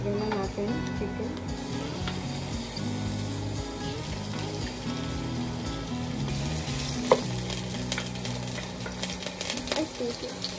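Chicken pieces frying in a pan for Filipino adobo, a steady loud sizzle with occasional stirring and clinks of the pan, continuous for the whole stretch.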